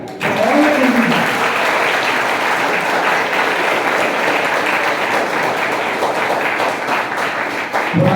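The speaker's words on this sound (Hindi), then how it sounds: "तो मेरी तरफ से आप सबको ये तालियां।" An audience claps for participants at a tobacco control committee programme, loud continuous applause from many hands sustained for several seconds, with a brief voice at the start.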